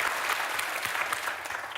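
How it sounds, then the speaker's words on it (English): Studio audience of women at a daytime talk show clapping steadily, a dense, loud wash of applause that holds for the whole stretch without letting up. "a lot of women are clapping"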